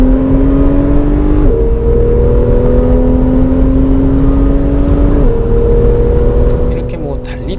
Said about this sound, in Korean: 포르쉐 엔진 소리가 궁금하신 분들을 위해 준비를 했는데 한번 들어보시겠습니다